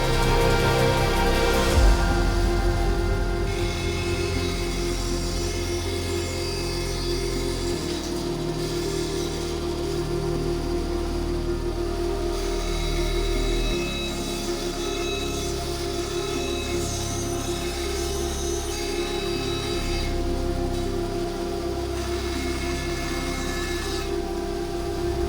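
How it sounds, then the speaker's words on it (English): A bandsaw cuts the curved outline of a wooden charcuterie serving board, a steady close-up whine and rasp holding level with slight variations in pitch and strain for about twenty-five seconds, with no talking. "Then it's back to the bandsaw to cut out the final shape of this serving board."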